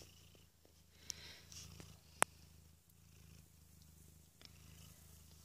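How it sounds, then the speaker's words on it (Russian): A Scottish Fold mother cat lying with her week-old kittens purrs softly and steadily close by, a quiet low rumble broken by a couple of small clicks. "Мамочка у нас здесь мурлычет."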